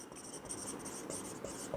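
Marker or chalk writing on a board in a chemistry lecture, soft continuous scratchy strokes with a few small taps, faint and steady against a hum-filled room.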